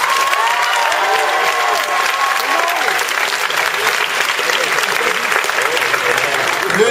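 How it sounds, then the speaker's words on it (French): An audience at a school talent show claps in steady, dense applause that holds at an even level throughout, a large crowd filling the room with continuous hand-clapping. "Merci d'applaudir Pietro."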